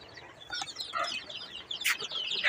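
Young chickens, somewhat larger chicks kept alongside a quail chick, give soft, scattered peeps and clucks close by with no one speaking.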